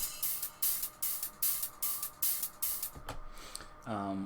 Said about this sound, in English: it's layered with a very simple hi-hat